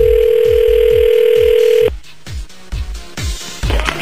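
Telephone tone as a call is placed: a steady electronic tone over a repeating rhythmic pulse, then clicks and short tone bursts during connection, loud and close.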